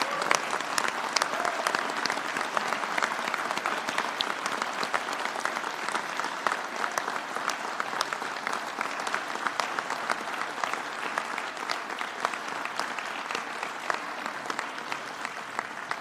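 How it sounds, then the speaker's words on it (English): Sustained applause from an audience at a governor's bill announcement event, steady and dense clapping for about sixteen seconds with no pause. "As I can tell from your applause"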